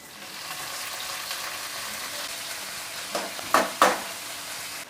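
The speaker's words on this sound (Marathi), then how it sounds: "चला आता हे वरीचे तांदूळ आहेत ना ते फोडणीमध्ये चांगले परतून घेऊया" Barnyard millet grains sizzle and crackle steadily in hot oil tempering, with a few louder stirring scrapes near the end.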